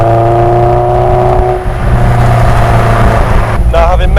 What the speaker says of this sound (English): this car does have a brand new 2-litre Durapower crate engine, and it is on Gen V throttle bodies, which you can hear quite nicely